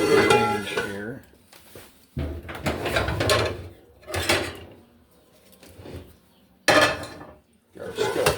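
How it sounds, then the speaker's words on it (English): Metal skillets are pulled out and set down on a kitchen range, giving several loud clanks and scrapes in separate bursts, with a brief voice near the start. "Get our skillets out."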